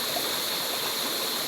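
The Laya River in Candulawan, Talisay City, Cebu, rushes and splashes in a dense, steady flow heard up close, with no other sounds over it.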